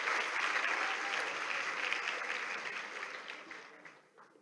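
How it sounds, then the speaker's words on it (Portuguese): Steady applause from a sizeable church congregation during a morning service fills the space, a dense wash of clapping that holds evenly and then fades out at the end. "A salva de palmas para os nossos assistentes aí, servos de Deus, abençoados."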